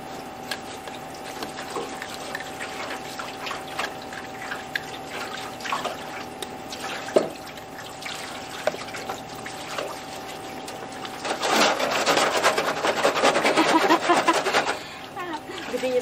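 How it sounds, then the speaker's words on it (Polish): Water splashes and trickles over a wheelbarrow, shovel and muddy boots being rinsed outdoors after garden compost work, with steady pouring and dripping that swells into a louder, sustained gush near the end. "Po skończonej pracy trzeba umyć taczkę, odpuścić łopatę."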